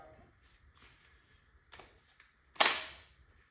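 A Valken M17 paintball gun fitted with an HD24 kit, running on a bottle at about 2,500 PSI, fires one sharp, close pop with a short decaying tail, preceded by a couple of faint clicks.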